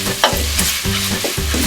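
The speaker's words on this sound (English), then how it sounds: "Keep stirring it for about 10 to 15 minutes." Carrots, onions and celery frying in a pan for Bolognese, a close, loud sizzle with rhythmic spoon strokes scraping and pushing the vegetables around, three or four distinct stirring passes, no voices.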